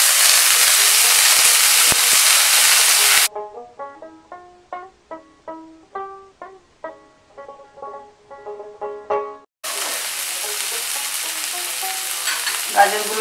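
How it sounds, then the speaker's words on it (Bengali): Carrots and frozen peas frying in oil in a wok, with a loud, steady close-up sizzle at the start and end, broken in the middle by a stretch of melodic music. "তেল দিয়ে আমি এই গাজরগুলো ভালো করে ভেজে নেবো, গাজর আর মটর দিয়ে ভালো করে ভেজে নেবো।"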